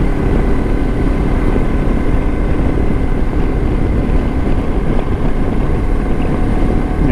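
A Lifan KPT 400 motorcycle rides twisty country back roads, its engine droning steadily and loudly under constant wind rush, with no break for the whole stretch.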